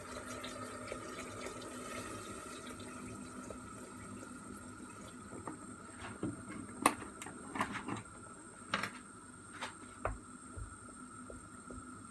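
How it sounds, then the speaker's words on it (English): Water poured from a tap into a pot of chopped zucchini and other vegetables, a steady faint running stream with a few brief clinks and splashes toward the end. "the amount of water we need to put in is like just to exceed everything inside"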